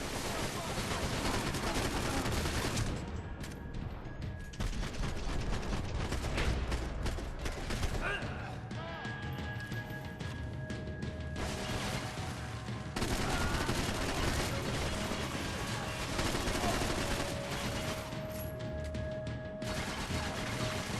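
Gunfire in the Max Payne 3 video game crackles continuously in dense, loud volleys with mechanical clanks and crashes, under a steady game soundscape and occasional voice.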